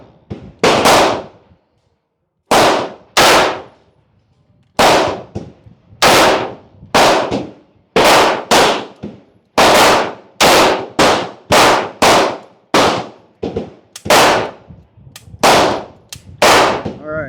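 Harpoon Magnum .72 caliber gun firing 1280-grain slugs at a target, about twenty loud, sharp close-range shots in quick irregular succession with brief gaps, no talking.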